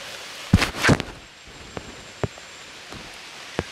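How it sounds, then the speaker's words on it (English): Rain falls outdoors in steady, soft patter, with scattered drops tapping close by and two brief louder rustling bursts near the start; no voices. "Now it's raining."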